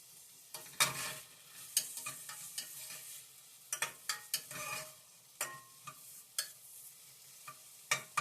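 Shiitake mushrooms cook in a hot pan for an Asian noodle bowl, a quiet low sizzle punctuated by irregular scrapes and knocks of a utensil stirring them around, close and without talk.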